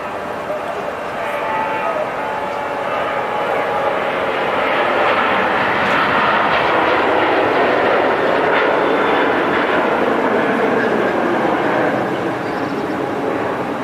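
An EgyptAir airliner takes off at Zurich Airport, its jet engines roaring in a loud, steady broadband rush that swells and holds for the whole stretch, heard from a nearby spotting position.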